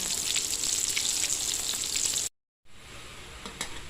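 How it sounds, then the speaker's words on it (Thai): Holy basil (kaphrao) stir-frying in a hot pan, giving a steady close sizzle with faint stirring. The sizzle breaks off into a brief silence, then returns quieter. "วันนี้ลองผัดกะเพรากินเองดูสิคะ"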